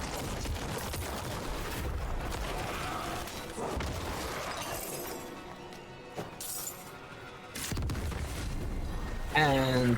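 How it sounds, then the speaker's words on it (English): Chaotic explosions and shattering blasts from Diablo 4's Necromancer combat burst in dense overlapping bursts, loud and busy with a brief lull in the middle before the action picks up again. "Explosions! More explosions!"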